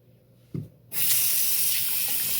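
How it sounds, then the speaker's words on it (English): Tap water runs steadily over a hand to rinse off a skincare product, a loud continuous splashing stream that starts after a brief knock and carries on alone. "I'm gonna just go ahead and rinse that off my hand"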